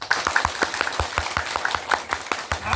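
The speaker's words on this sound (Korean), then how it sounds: "빠르게 10번 쳐보세요. 박수." An audience at a health lecture claps quickly in rapid, sharp bursts, a fast run of distinct hand claps close and fairly loud with no voices over it.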